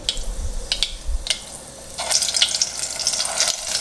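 Eggplant pieces dropped into hot oil already holding cumin seeds, mustard seeds and asafoetida, giving close, crackling sizzles and splashy bursts that rise after a couple of brief clatters.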